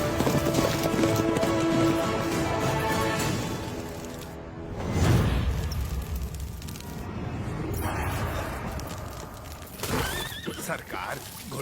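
Horse hooves clip-clop amid a loud, busy scene, with a horse neighing and people talking over the steady trotting rhythm.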